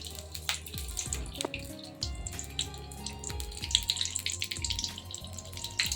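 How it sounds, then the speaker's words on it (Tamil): Curry leaves sizzle and crackle in hot sesame oil in a pan while frying dried fish, a close, hissing spatter with irregular pops throughout. "கொஞ்சம் நல்லெண்ணெய் ஊற்றிட்டு எண்ணெய் காஞ்சோடனே கருவேப்பிலையை போட்டுக்கலாம்."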